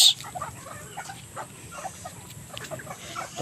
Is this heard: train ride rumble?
no